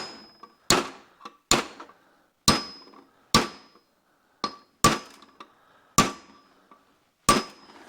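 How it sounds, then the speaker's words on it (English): Light hammer taps on a punch while seating a part during a carb rebuild on a 1973 Cobalt boat with a 165hp engine: about nine sharp, close metallic ticks in an uneven rhythm, each ringing briefly, with no talking. "Now we'll take our little hammer and punch."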